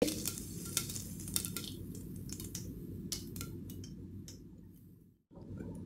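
Asafoetida (hing) hitting hot oil in a home kitchen pan, giving a soft steady sizzle with scattered light clicks and scrapes, fading briefly near the end before the frying hiss returns.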